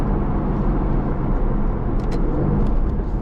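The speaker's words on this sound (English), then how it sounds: "this incredible 4-litre twin-turbo V8, plucked straight out of some of the finest AMG cars out there" Aston Martin Vantage with a 4-litre twin-turbo V8, a close, loud, steady low engine rumble that holds an even level with no clear revving.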